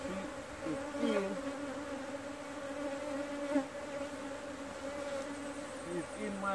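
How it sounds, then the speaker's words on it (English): A bee trapped inside a beekeeper's veil buzzes close and loud, its steady drone wavering in pitch as it moves about during a hive inspection. "Oh my god, a bee's just come in this coat."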